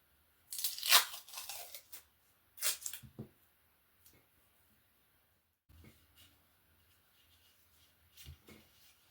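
Adhesive tape tears off a roll twice in sharp broadband rips while taping up a bass guitar fretboard, followed by soft handling rustles and light taps nearby.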